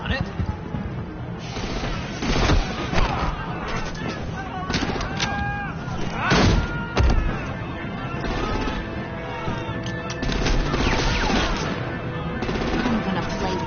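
Rapid gunfire in a dark night battle, with bursts and heavy booms under shouting voices throughout.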